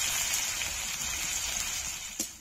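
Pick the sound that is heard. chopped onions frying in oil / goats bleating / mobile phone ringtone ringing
chopped onions frying in oil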